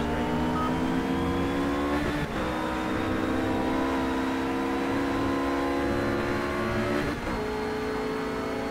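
Ruf GT3 race car at Spa accelerating hard onto the straight, a loud sustained engine drone rising steadily in pitch with two brief gear-change dips, heard from on board with no talk.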